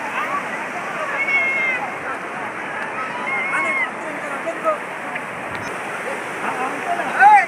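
Chaparai waterfall at Araku, water rushing over rocks in a steady broad roar, with a crowd of bathers chattering and calling nearby throughout.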